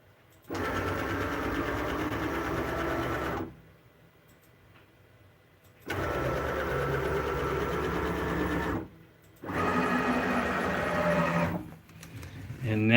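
A CNC machine cutting out a Pikachu shape runs in three loud, steady bursts of a few seconds each, with a rattling, sewing-machine-like mechanical hum and short quieter pauses between passes.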